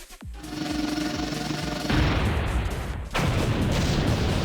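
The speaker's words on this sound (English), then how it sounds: "Explosions!" Heavy explosions and booming blasts from the Blue Archive video game rumble loudly and continuously, with a fresh burst near the start, another surge about two seconds in and a third after three seconds.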